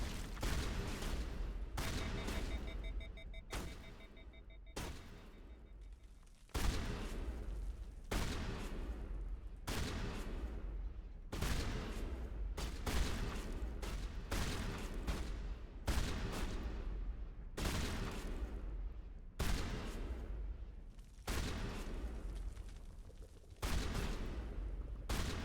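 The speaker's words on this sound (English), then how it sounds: "Like 10 shots just to take out 2 of them." Gunshots from a video game, about a dozen loud, evenly spaced booming shots with sustained roaring tails, each cut off sharply before the next.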